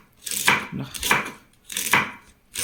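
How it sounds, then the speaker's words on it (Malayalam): A knife chops taro stalks into small pieces on a board, giving four distinct bursts of crisp, woody cutting strokes in an uneven rhythm, close and fairly loud with no talk. "സൗണ്ടുണ്ടാവും ഇതുപോലെ ചെറുതാക്കി അരിഞ്ഞെടുക്കാം"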